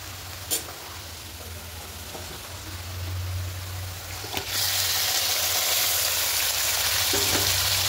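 Oil sizzles steadily, then bursts into a louder, hissing fry about halfway through as marinated chicken hits the hot pan, with a few clinks of utensils.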